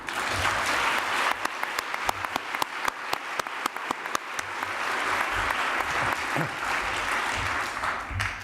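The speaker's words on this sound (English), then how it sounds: "will you join me in a round of applause?" Sustained applause from an audience at an arts awards gala, dense clapping filling the hall steadily for several seconds with a few sharper individual claps standing out.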